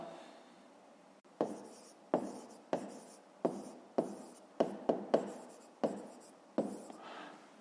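Pen writing on paper while working a fifth-grade maths exercise: a series of about a dozen short, close scratching strokes in quick bursts with brief pauses between, and no talking.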